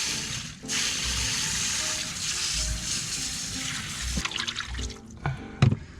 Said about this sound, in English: Let's rinse this thing out.